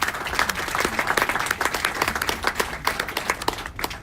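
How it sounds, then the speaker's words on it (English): A conference audience applauds at a steady density for about four seconds, dense crackling claps from a mid-sized crowd heard at moderate distance. "I'd like to do that with a round of applause as well."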